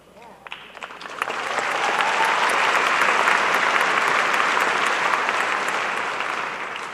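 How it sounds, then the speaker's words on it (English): A high school graduation audience breaks into applause that swells within the first second and holds as a dense, steady wash of many hands before easing slightly toward the end. "it's okay if you applaud"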